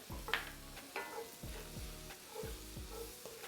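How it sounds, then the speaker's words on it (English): All-purpose flour fries with garlic in a pan as the base of a Cajun onion gravy for smothered pork chops. A steady low sizzle runs under regular scraping stir strokes, close by, with no voices. "You want to fry this flour."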